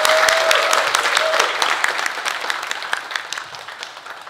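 Audience applause at a model hunt event, a steady wash of many hands clapping that fills the whole stretch, loud at first and easing slightly toward the end.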